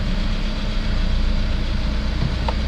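A 2017-2022 Kia Sportage 2.4L engine idles steadily at operating temperature after running for a while, a constant low mechanical hum, close and even, with no talk.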